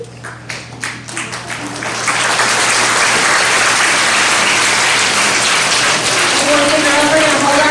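Audience applause in a school gym or auditorium at an elementary school Veterans Day ceremony, starting with a few scattered claps that swell after two seconds into steady, loud, sustained clapping from a large crowd.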